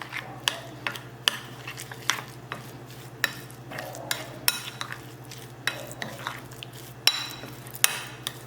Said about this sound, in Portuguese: misturar.